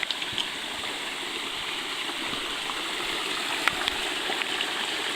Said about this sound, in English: Alright, this is the falls.